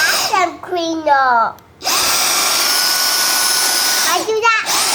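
A Dyson DC31 Animal handheld vacuum cleaner starts up and runs with a steady high whine after a child's excited chatter, the motor holding loud and even until the young voice returns near the end.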